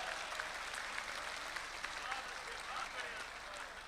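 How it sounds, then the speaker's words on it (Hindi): An audience applauds throughout a poetry recital gathering, a kavi sammelan and mushaira held in Dubai for Indian Republic Day, with dense, steady clapping from a large crowd filling the hall. "मेरा जी चाहता है कि उनकी शेरवानी के लिए भी एक बार ताली बजाई जानी चाहिए"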